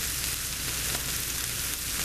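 Chicken pieces browning in a frying pan give off a steady, close, even sizzle and crackle, with no voices.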